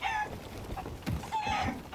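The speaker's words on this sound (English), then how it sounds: "You got that black chicken, Buddha?" A chicken in Sea of Thieves clucking and squawking in short, close bursts across two seconds, fairly loud, with no talking.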